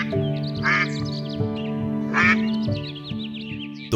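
Cartoon ducks quack in a steady series of loud, close calls over a background music bed, with no talking.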